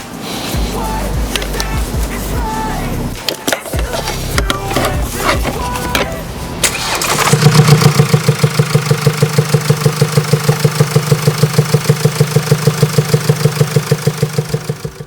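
A car engine with a damaged part runs with a rough, abnormal noise: a steady, closely spaced knocking beat over a low idle, loud and close, following a stretch of mixed mechanical clatter.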